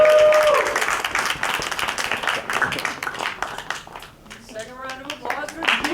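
Applause and scattered claps rise for poet Jean at a poetry slam, loud at first and then thinning, with voices calling and talking over the crowd.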